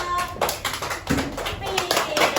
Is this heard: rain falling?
no